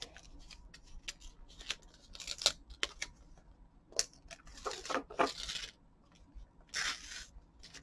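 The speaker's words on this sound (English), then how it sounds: "So I'll peel the first part off." A printed paper sheet is peeled apart in short, crisp tearing and crinkling bursts, close and fairly quiet, with several separate rustles and a longer rip near the end.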